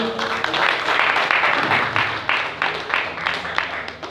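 Audience at a Russian 80th anniversary friendship association gathering applauds a guest, steady crowd clapping lasting throughout with some talk mixed in.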